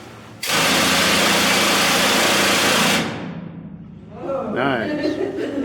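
An old pneumatic drilling machine in a gold mine roars on abruptly, running loud and steady for about two and a half seconds, then cuts off; voices and laughter follow as it winds down.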